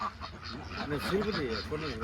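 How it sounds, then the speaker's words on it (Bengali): A flock of Belgian ducks by a riverbank calls in a burst of overlapping nasal honks and quacks, close and busy, with voices faintly mixed in. "দেখতে পাচ্ছেন প্রচুর পরিমাণ হাঁস কিন্তু এখানে ছাব্বিশশো হাঁস আছে"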